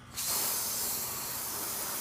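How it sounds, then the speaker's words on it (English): Water sprayed onto a waxed car paint panel: a sudden loud, hissing rush of spray starts after a split second and continues steadily, close and dense, with no voices. "when I'm spraying the water like this, it's a very large volume of water hitting the surface at one time"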